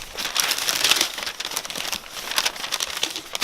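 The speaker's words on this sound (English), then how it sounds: "You open the box, it's a lot of wrapping paper" Wrapping paper crinkles and crumples as a GOAT shoe box is opened, a steady, close rustling crackle that swells and eases in bursts for several seconds, with no talking.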